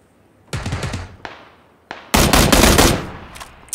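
Rapid gunfire in PUBG, an AUG rifle firing: a short burst of sharp shots, a pause, a single crack, then a longer dense volley, loud and close with no talking.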